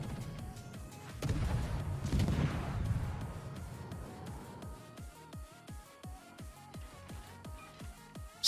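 Guns of a Tier V European destroyer, HSwMS Visby, fire at an enemy Iron Duke battleship in World of Warships: a heavy boom and rumble, then a long regular train of evenly spaced, punchy gun reports.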